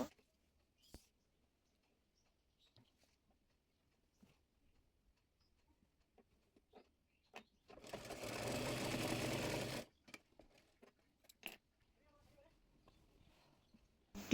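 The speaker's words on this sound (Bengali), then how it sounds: "এবার হাতার মোহরি অনুযায়ী বডি পার্টটি সেলাই করে নেব" A sewing machine stitches the body part of an umbrella frock, running in a single steady burst of about two seconds amid otherwise quiet handling clicks and taps.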